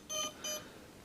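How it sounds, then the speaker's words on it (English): Electronic speed controllers in an RC plane setup emit two short, faint high-pitched beeps in quick succession, then fall quiet, with no voices. "We have beeping going on from the SCs because they want power."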